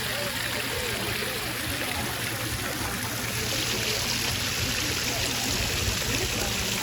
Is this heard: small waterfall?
yes